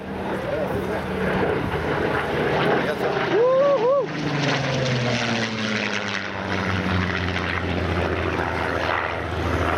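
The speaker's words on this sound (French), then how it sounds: "Supermarine Spitfire. La star." A Supermarine Spitfire Mk XIX flies at the La Ferté-Alais airshow, its propeller engine droning loud and steady as it passes, with a commentator speaking over it.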